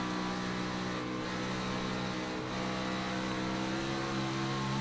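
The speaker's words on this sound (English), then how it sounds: "You can hear him getting in and out of the throttle, being careful out of the corners" Stock car engine in iRacing at Dover, a steady droning roar with the throttle easing slightly and picking back up, loud and continuous with no talk.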